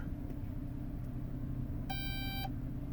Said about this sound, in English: See, it's beeping, it's telling me objects are back behind me.